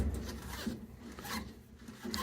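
Steady abrasive rasping of a bowling ball being sanded as it turns on a ball spinner, a continuous close scrubbing texture with slight swells, no voices.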